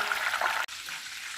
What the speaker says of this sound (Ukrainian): Трішки підсмажую і забираю.